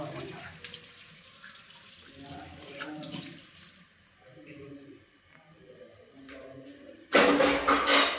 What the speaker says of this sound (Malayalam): പാത്രം കഴുകി വെക്കട്ടെ